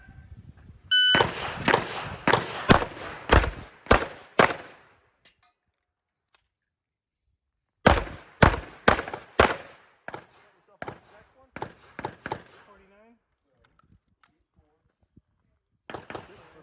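Pistol shots fired during a USPSA shooting stage ring out in rapid strings, a burst of six or seven close, loud cracks, a pause, then another quick volley and scattered later shots, each echoing briefly.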